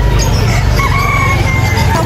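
A rooster's crow rings out among clucking chickens at a crowded pet market in Angeles City, loud and near, over a steady wash of market noise.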